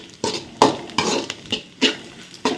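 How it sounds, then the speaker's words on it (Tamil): Vegetables being sautéed in a pan for a healthy Maggi noodles dish, with a spoon scraping and stirring in several distinct bursts, close and moderately loud, with a faint sizzle between strokes. "இதையும் கொஞ்சமாக போட்டு வதக்குவோம்"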